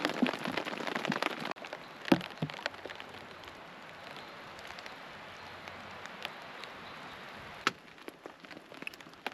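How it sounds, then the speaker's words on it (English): Steady rain patters on leaves and surfaces, a soft continuous hiss with occasional louder drips and knocks nearby. "it's been raining all night."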